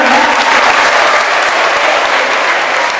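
Families gathered at a lively community event applaud together, a loud, dense and sustained burst of clapping from a crowd that holds evenly throughout.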